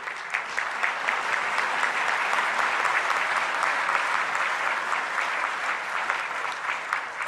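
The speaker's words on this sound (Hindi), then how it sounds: "फिर आपकी ताली दब गई।" An audience applauds steadily at a speech on the tax system, dense continuous clapping filling the whole stretch at an even level.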